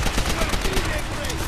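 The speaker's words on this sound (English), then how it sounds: "it's my favorite gun, the Gewehr" Rapid gunfire from a Gewehr rifle and other weapons in Call of Duty: World at War pops in quick repeated bursts over dense battle noise, loud and continuous throughout.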